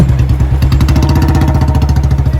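A Royal Enfield Bullet motorcycle engine runs loud and close while being parked, giving a steady, even thumping idle with a fast regular beat and a metallic clatter on top.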